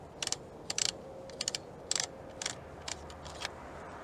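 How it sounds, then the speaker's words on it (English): The magazine tube cap of a Winchester SX3 shotgun is unscrewed, producing a close run of sharp, irregular metallic clicks and ratcheting ticks in short clusters, with no talking. "I'm going to start by taking the top part of the mag tube off."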